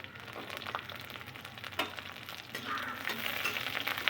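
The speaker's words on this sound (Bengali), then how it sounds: "কতগুলো গোটা রসুন দিয়ে দিয়েছি এখানে" Whole garlic cloves and black cumin seeds frying in hot oil give a steady close sizzle with crackling pops, growing a little louder toward the end, with no one talking.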